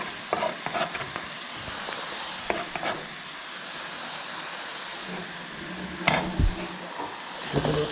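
Grated and whole apple chunks go into sizzling caramel, giving a soft continuous hiss with scattered clatters and scraping stirs, fairly quiet and close, no talk.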